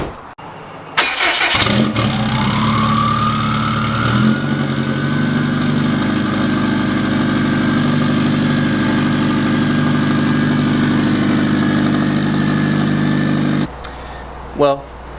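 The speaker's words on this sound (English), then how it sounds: "We'll get Franny out here, we'll get a cold start for the boys" A 600 WHP Subaru STI cranks and fires on a cold start. It settles into a loud, steady, high idle that slowly drops in pitch, then shuts off. Voices are faintly present.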